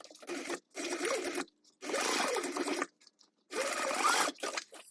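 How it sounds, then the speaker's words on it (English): A sewing machine runs in three separate bursts, each about a second long, stitching a quarter-inch seam along the lining of a sewn project, with quiet pauses between the runs. "stitch at a 1/4 inch seam allowance right along here"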